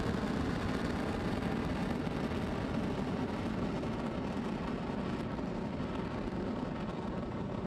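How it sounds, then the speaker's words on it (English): A Falcon 9 rocket lifting off from Space Launch Complex 40 at Cape Canaveral, heard as a continuous broad, dense roar, steady and even throughout, with no voices. "Engines full power and liftoff"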